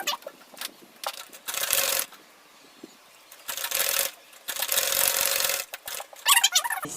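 Sewing machine stitching an insulated lunch bag in three short, steady runs of whirring, with brief pauses between them and a few quick metallic clicks at the end, heard close up with no talk.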